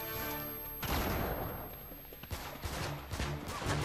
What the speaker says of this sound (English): Gunfire, shotgun, yeah.